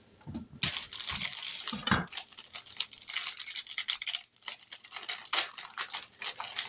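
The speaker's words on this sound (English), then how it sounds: "So let's get this chocolate cut up." A knife chops chocolate on a board, producing a rapid series of crisp, scraping cuts and crunches with a few heavier thuds, close and continuous.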